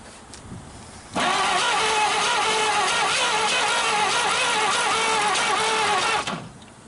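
A 1939 Chevrolet Master, restarted after sitting 48 years with a sticking throttle, cranks and catches, its engine firing unevenly in a loud, sustained burst of about five seconds before cutting off.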